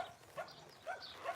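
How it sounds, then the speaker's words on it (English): Faint, distant barking from dogs, a few short yips and whines spaced through a brief moment. "So the dogs are being silly again."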